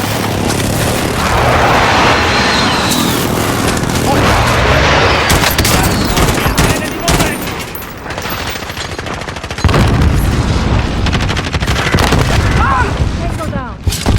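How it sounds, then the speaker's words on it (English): Loud, dense battlefield din from the video game Warzone, with a precision airstrike and gunfire in a construction site, rapid shots and booms running steadily through the whole stretch with a brief dip midway, under a game voice announcing the strike. "Allied precision airstrike incoming."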